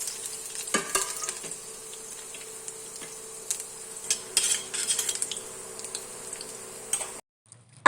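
Finely chopped garlic fries in hot oil in a kadai, giving a steady close sizzle broken by scattered clicks and scrapes of stirring, before a sudden cut near the end.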